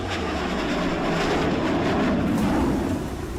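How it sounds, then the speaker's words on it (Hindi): Two Mirage 2000 fighter jets take off together, their engines producing a loud, broad, continuous roar that swells slightly and then eases, with no voices. "जेट इंजन की दहाड़ सुनिए। इस गड़गड़ाहट के साथ दोनों मिराज टेक ऑफ करते हैं"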